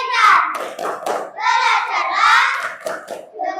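Schoolchildren in an Indonesian classroom chant together in rhythm while clapping their hands, loud group voices leading the patterned claps.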